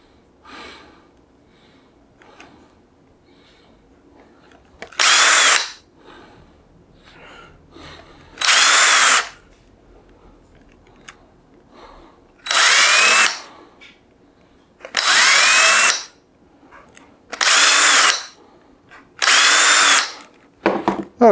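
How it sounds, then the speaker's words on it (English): A power drill fitted with a larger drill bit, used while building a capacitor bank, whines in six loud, close bursts of a second or so each, with quiet pauses between them. "Now let's go to the bigger size drill bit."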